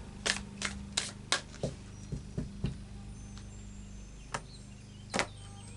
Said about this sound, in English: So I have two more shuffles.